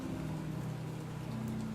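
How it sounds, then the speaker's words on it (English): Steady rain falling in the video game Batman: The Telltale Series, a soft continuous wash heard alone at low level beneath a low droning tone. "I'm still in the rain, by the way. I'm getting soaked."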